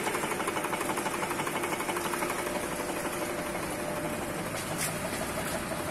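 A reciprocating pump runs steadily, its plunger driven by V-belt pulleys, giving a constant mechanical chugging drone with fast regular pulsing, moderately loud and close, with no voices.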